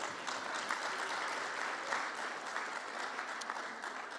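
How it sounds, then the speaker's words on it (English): An audience at a Dominican community event in Jamaica breaks into sustained applause, a dense, even wash of many hands clapping at a distance, steady and moderately quiet throughout with no voices on top. "Give her a round of applause."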